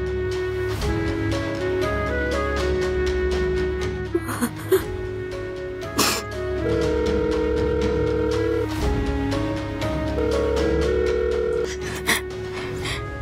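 A phone call rings out unanswered, with a repeating ringback tone pulsing in steady cycles under tense background music, interrupted by a few brief sighs or breaths.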